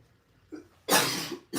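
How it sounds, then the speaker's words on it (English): A woman lets out a short throat sound, then a strong, harsh cough burst that starts another at the end, close to the mic in a quiet room. "And I'm going to cough."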